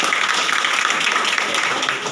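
A crowd at an education conference in Kannauj claps steadily, a dense wash of applause that holds evenly through the whole stretch.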